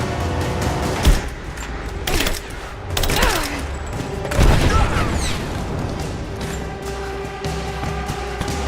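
Gunfire in the video game Rise of the Tomb Raider, several loud bursts and booming shots spaced over a rumbling battle background.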